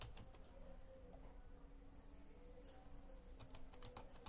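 Quiet keyboard typing while entering text in Canva, with a scattering of soft key clicks over a low steady room hum.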